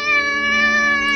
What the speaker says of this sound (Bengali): বিড়ালের ডাকের শব্দ শুনে।